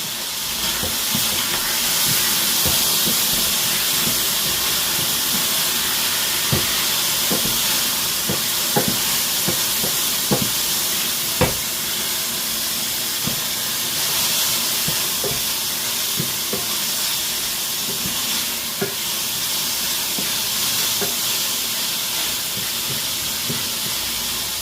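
Pieces of food fry in a pan over high heat, giving a constant loud sizzling hiss dotted with sharp pops and crackles, close up and steady throughout, with no voices.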